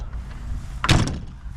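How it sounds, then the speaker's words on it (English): A 1987 AM General Humvee door shuts with one heavy, close thud, framed by quiet idle noise before and after. "Nice door shut."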